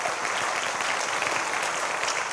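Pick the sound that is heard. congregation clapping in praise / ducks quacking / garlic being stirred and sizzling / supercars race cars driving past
congregation clapping in praise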